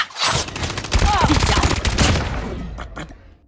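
A Type 25 assault rifle fires in rapid bursts in a shooter video game, dense crackling gunfire filling about three seconds before trailing off with a few last shots.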